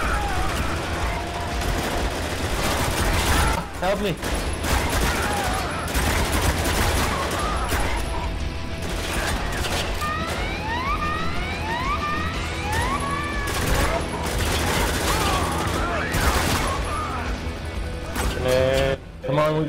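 Heavy gunfire in Spec Ops: The Line comes as sustained loud volleys of overlapping shots, joined by siren-like wails. A voice shouts briefly over the firing.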